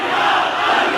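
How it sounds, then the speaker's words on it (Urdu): Massed voices at a religious rally shout a slogan together, a loud, continuous crowd roar filling the whole moment without pause. "اب اس نعرے کی بھی آواز گونجنی چاہیے"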